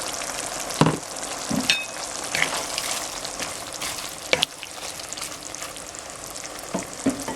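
Ground pork, tofu and dried shrimps sizzle loudly in a pan, a constant crackling fry broken by scraping stirs and occasional clinks of the utensil, with no talking.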